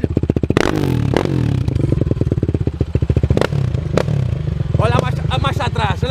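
A Kawasaki LTR 450 quad bike engine putters and revs up close in a rapid pulsing rhythm, with clattering knocks and a voice speaking over it toward the end.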